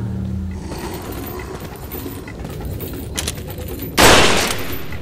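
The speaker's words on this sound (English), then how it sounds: "I shot when he bloody attacked." Gunfire from the video game Resident Evil 4: a loud burst of shots near the end over a busy, noisy game background, with no talking.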